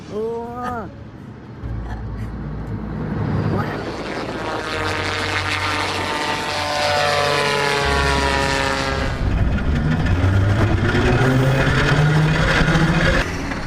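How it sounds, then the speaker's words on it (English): A propeller airplane drones overhead, its engine tone rising and sliding in pitch as it passes, loud and sustained, after a brief voice at the start. "An airplane appearing to be stuck midair, seemingly frozen in place."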